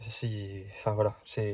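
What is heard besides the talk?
No everyday noises stand out.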